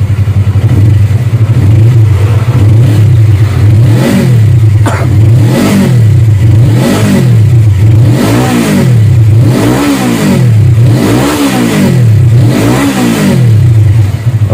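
A motorcycle with a handmade racing exhaust revs loudly and repeatedly up close, each rise and fall of the engine coming in a steady rhythm over a constant deep rumble.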